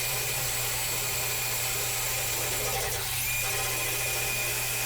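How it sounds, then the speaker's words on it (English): A drain snake grinds through a clogged bathtub drain, a steady mechanical whirring hum running throughout at moderate level with little variation. "It's impressive how easy that snake is cutting through that blockage."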